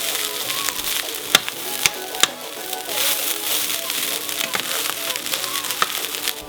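Vegetable fried rice with white rice and soy sauce sizzles in a pan, a close, steady frying hiss broken by several sharp scrapes and clacks as it is stirred and spread.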